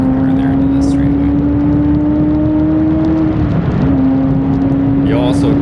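A supercharged C5 Corvette Z06 races at Sebring Raceway, its engine droning loudly and steadily under load, with a brief dip in pitch as it shifts early before climbing again.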